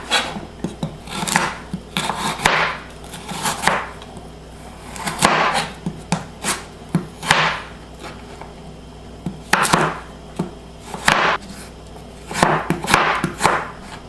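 A knife cuts carrots into bâtonnet sticks on a cutting board, producing bursts of quick, close chopping strokes separated by short pauses, with a faint background hum.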